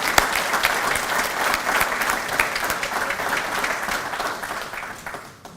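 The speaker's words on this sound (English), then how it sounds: "Let's give them a hand." An audience at a community address applauds a standing class, many hands clapping in a dense, steady roar that gradually fades toward the end.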